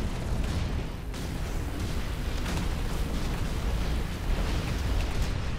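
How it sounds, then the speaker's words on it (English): Heavy gunfire and explosive impacts strike a player's mech in the video game Hawken, a dense, continuous barrage of booms and bursts that stays loud and unbroken throughout. "Oh, I'm getting shot at from behind."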